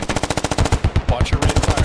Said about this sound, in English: I'm just gonna keep tap firing.